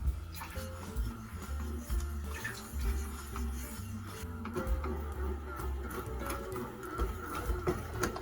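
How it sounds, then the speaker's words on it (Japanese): A Panasonic home bakery machine mixes bread dough, its motor giving a steady low whir with rhythmic knocking and thumping as the paddle turns and folds the dough, continuous and moderately close. "試しに今回はこのような工程でミキシングを進めていきます"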